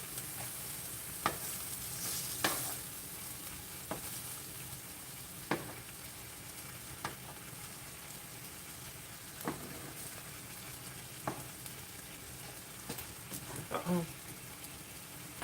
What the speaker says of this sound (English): So the burgers are still cooking.